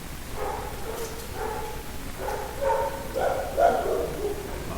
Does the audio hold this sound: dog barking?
yes